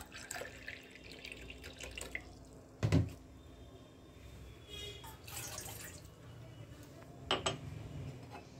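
Running water from a tap splashes while someone washes hands and face at a sink, with intermittent gushes and drips, a couple of sharper splashes, and no talking.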